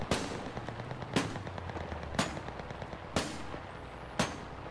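Heavy artillery blasts in the video game Enlisted, Tunisia battle, land at a steady pace, about one each second, each a sharp boom over a constant rumbling background of distant battle noise.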